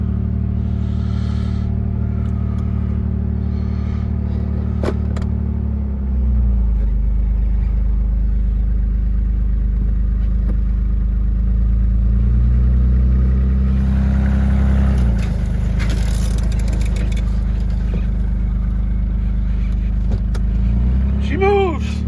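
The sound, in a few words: 1989 Toyota pickup engine running and moving after long rest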